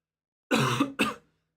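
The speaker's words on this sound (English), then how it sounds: "Sorry about my cough, by the way." Two quick throaty coughs close to the mic, the first longer and rougher, the second short, with silence before and after.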